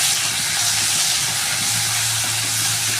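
Onion, ginger, garlic and green chilli paste hits hot oil left from frying fish, giving a loud, steady, close broadband sizzle that holds evenly throughout.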